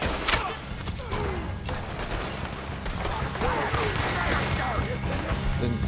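Gunfire breaks out in an outlaw camp in the Red Dead Redemption 2 video game, a rapid fusillade of overlapping shots near and far, mixed with shouting voices.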